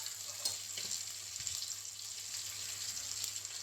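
Chilli with coriander powder masala sautés in oil for a fish curry, giving a soft continuous sizzle with a few faint clinks, fairly quiet and close, with no talking.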